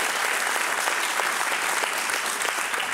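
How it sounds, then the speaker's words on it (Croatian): A studio talk-show audience claps steadily and densely for a few seconds, loud and sustained with no pauses. "Ovo je aplauz spontan i organizovan."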